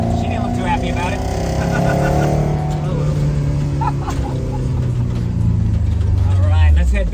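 A Toyota AE86 with a little 1.6-litre four-cylinder engine drives along, its steady engine drone shifting in pitch as it revs and changes gear, close and loud, with people talking over it.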